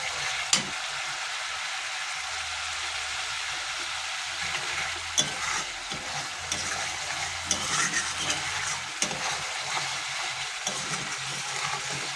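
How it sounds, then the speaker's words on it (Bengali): Egg curry masala stirred in a hot frying pan: a steady sizzle with repeated scrapes and knocks from the spatula, close and continuous throughout, with no voices. "ভালো করে নেড়ে নেব।"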